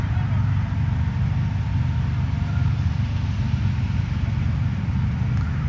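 A combine harvester's engine runs in a harvested field, a loud, steady, low drone holding even for several seconds with no speech.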